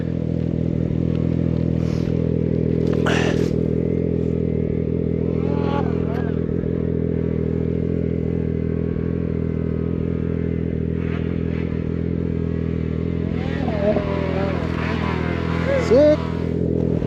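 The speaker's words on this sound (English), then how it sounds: "Me and Timmy, we had a good time ripping up his sleds over here." Snowmobile engines run at a steady idle near the trucks in rural Alaska, a continuous low droning hum with occasional clatter and brief rising revs toward the end, while people talk faintly in the background.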